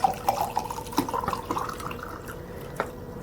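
Vinegar marinade with 9% vinegar is poured into a half-litre jar for hot peppers in honey marinade, a soft continuous liquid trickle with small splashy drips, close and fairly quiet, with no talking.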